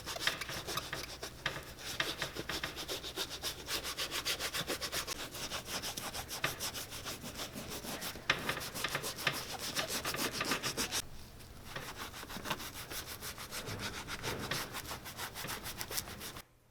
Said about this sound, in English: I'm just going to get that really worked into the leather, wipe off the excess